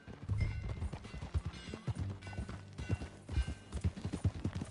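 Horse hooves clip-clop in a steady rhythm as a horse is ridden, the rough, close thuds repeating throughout.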